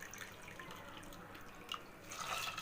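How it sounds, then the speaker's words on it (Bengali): Water is poured from a measuring bowl into lentils for dal, a faint, soft splashing and trickling up close that swells slightly toward the end, with no speech. "এবার যে মেজারিং বলে ডাল নিয়েছিলাম সেই মেজারিং বোল অনুযায়ী আমি জল নিচ্ছি।"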